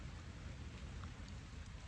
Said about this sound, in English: now it's really starting to rain